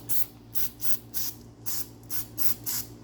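Bursts of aerosol cleaning spray hiss in a quick, even rhythm into the threaded bolt holes of a Willys Jeep CJ2A Go Devil 4-134 engine block, close and loud with no talk.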